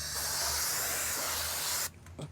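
A continuous hissing spray of chain lube from an aerosol can onto a Kawasaki Ninja 400 motorcycle chain for nearly two seconds, then it stops abruptly, leaving faint clicks and handling sounds.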